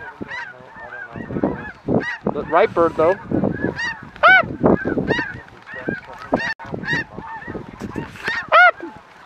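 Snow geese honking loudly and repeatedly in a noisy flock during a spring hunt over decoys, with someone speaking briefly among the calls.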